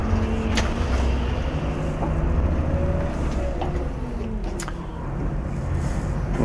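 An Irisbus Crossway coach with a manual gearbox pulls away as the clutch is released. Its diesel engine gives a steady, close, low drone that rises slightly throughout, with no talking.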